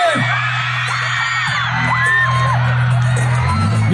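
A concert crowd of women in Alaminos City, Pangasinan, whoops and yells continuously over loud amplified music, a dense, sustained roar of shrill cheering voices.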